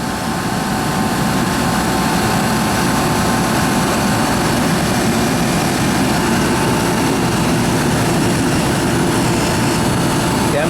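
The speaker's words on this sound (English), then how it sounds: "This fan is throwing the heat off up here." Refrigeration condenser fan running on a system converted from R408A to R407F refrigerant, a loud, steady whooshing whir heard close up and alone.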